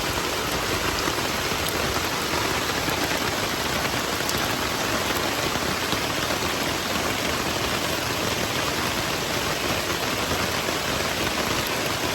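Heavy rain pours steadily on a campsite during a storm, a loud, unbroken hiss of drops pattering on hard-packed ground and gear for several seconds with no voices.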